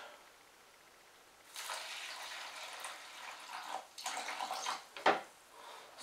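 Warm water poured from a tap into a bowl for bread dough, a steady soft rushing stream starting after a quiet moment, swelling and stopping in bursts, with no talk.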